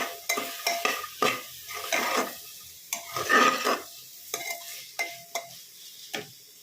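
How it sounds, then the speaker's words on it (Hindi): Green peas roast in spiced oil in a pan as a spoon stirs and scrapes them in irregular bursts over a light sizzle, with a few metallic clinks against the pan. "अब इसमें हम जो मटर के दाने लिए थे उनको भी ऐड कर लेंगे। इनको हल्का सा भूनेंगे।"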